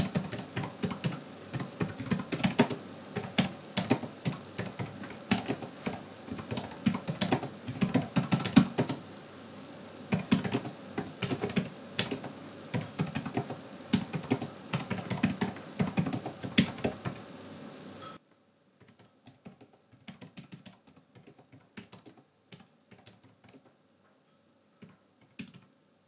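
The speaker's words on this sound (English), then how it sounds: "here's a recording I did a little bit earlier so you can listen to the key typing sounds" A Logitech K780 wireless low-profile keyboard is typed on continuously, a rapid close-up stream of soft plastic key clicks, dropping to sparser, quieter taps for the last several seconds.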